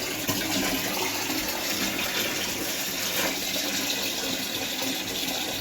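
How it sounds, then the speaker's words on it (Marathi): Water gushes steadily into a container on a cart outdoors, a continuous broadband rush at moderate level with no pauses across the whole stretch. "थोडा पाणी भरतंय गाडीवर पाणी मारूचा."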